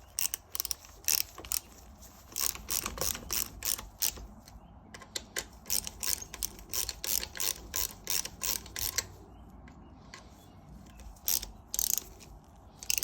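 Ratchet wrench tightening small bolts into the aluminum housing of a Briggs and Stratton starter, a steady run of crisp clicking bursts with brief pauses between strokes, close and clear, no talking.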